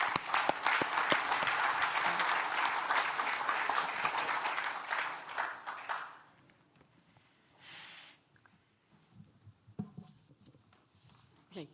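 Audience applause for a cybersecurity conference panel, loud and sustained clapping for about six seconds, then cutting off to a quiet room with scattered small sounds.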